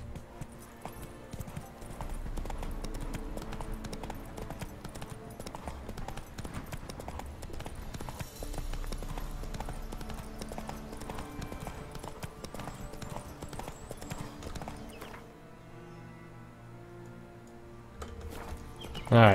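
In a video game, the horse Roach's hooves clip-clop in a steady walking rhythm under a continuous layer of game music and ambience, which thins out briefly near the end.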